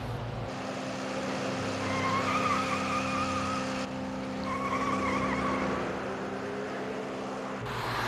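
A runaway car speeds past on a highway, a steady loud engine and tire roar with whining tones that swell and fade as it goes by, recorded from the roadside emergency lane.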